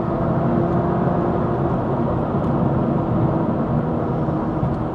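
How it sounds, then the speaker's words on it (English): An upgraded McLaren sports car making a fast pass, a loud continuous engine roar and whir sustained for several seconds with no talk. "Doing another fast pass here past Jay."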